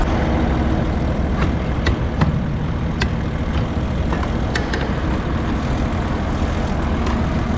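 A pump engine running loud and close in a rough, steady rumble with faint sharp ticks scattered on top, no clear rise or fall in throttle.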